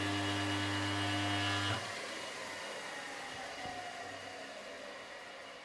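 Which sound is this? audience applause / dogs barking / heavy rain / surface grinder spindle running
surface grinder spindle running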